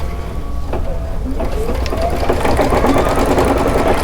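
An embroidery machine stitches a small design in red thread with a fast, steady mechanical whir and rapid needle rhythm, close and fairly loud throughout.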